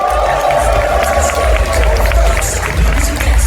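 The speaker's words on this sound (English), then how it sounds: "please, huge round of applause for Nygolt" An audience at a furry convention's opening ceremony breaks into loud, sustained applause and cheering for the community guest walking on stage, a dense wash of clapping that fills the room.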